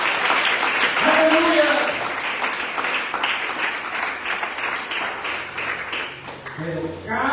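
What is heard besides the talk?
church congregation applauding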